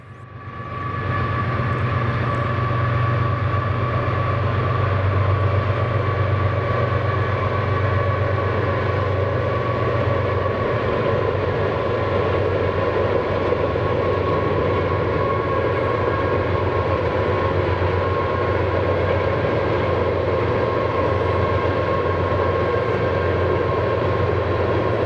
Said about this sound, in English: BNSF is busy near Sandpoint, Idaho, and we caught a manifest train crossing part of the Pend Oreille Lake.